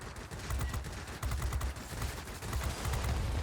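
Aircraft guns in World of Warplanes on an IL-10M attack plane, loud sustained bursts of rapid automatic fire with a heavy low thump, running almost continuously with a brief dip early on.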